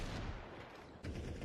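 Desert Eagle shots in a professional Counter-Strike match come as a quick burst of sharp, muffled cracks blending into a low rumble of game noise, with another shot after a brief pause.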